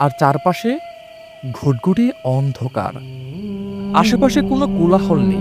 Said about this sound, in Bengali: শুধু মাঝে মাঝে ঝিঝি পোকার ডাক শোনা যাচ্ছে।